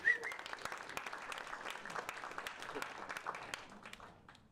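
Hackathon audience applause as a team is called up to present, scattered crisp claps from a modest crowd starting with a sharp burst and tapering off, fairly faint and distant.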